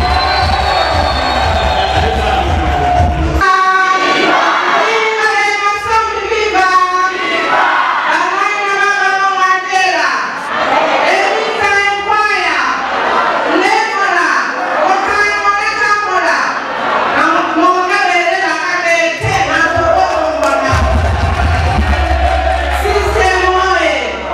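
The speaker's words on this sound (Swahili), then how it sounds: "Msikie shangwe na vigelegele kwa ajili ya mbunge" A large crowd at a youth-wing political rally cheers and ululates for their member of parliament, a loud, continuous wall of whoops and high trilling cries that swells and rolls for over twenty seconds.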